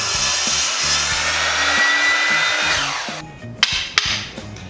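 A power saw cuts wooden planks in half, running as a loud, continuous whine for about three seconds before cutting off, followed by a few knocks and clatters of wood.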